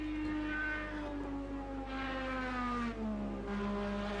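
IndyCar race cars lap the Indianapolis road course at speed, reaching about 280 km/h. High engine whines sweep down in pitch as the cars pass, over a steady hum, with no voices.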